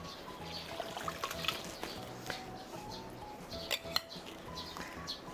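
Soy sauce mixture poured over a cup of rice syrup in a big batch of pork bulgogi, heard as a faint liquid trickle among light clinks of pots and utensils.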